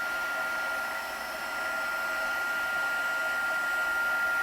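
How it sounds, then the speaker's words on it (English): A heat gun blowing hot air to melt embossing powder on a paper card, a steady close whooshing hiss with a thin whine, unbroken and alone. "we're just hitting this with the heat gun until it melts that embossing powder and it's on the card good"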